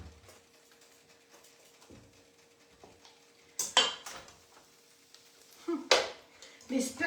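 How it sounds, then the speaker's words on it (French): Ingredients, including something melted, are mixed in a salad bowl with a utensil, giving intermittent scraping and clinking bursts near the mic, louder in the second half, with quiet background hum. "on va mélanger."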